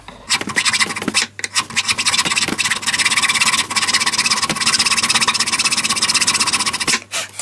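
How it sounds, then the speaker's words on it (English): A round metal file rasps hard against the wood around the truss rod opening of a 1980s Aria 12-string acoustic guitar, loud close strokes running almost continuously with brief pauses near the start and end. "The last little bit here I'm going to do the round file"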